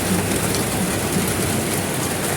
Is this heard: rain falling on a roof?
yes